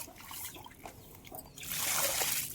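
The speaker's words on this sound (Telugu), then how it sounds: "కొద్దిగా వాటర్ పోయాలి కాబట్టి పోస్తున్నాం" Water is poured onto newly planted rose plants in a field: a faint, close trickle and dribble that swells into a louder splashing pour near the end, no speech.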